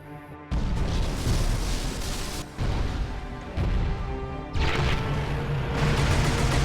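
A loud, violent dropship crash in Halo 2 with heavy booms and rumbling debris, several big impacts in a row, followed by a sustained roar of wreckage and wind.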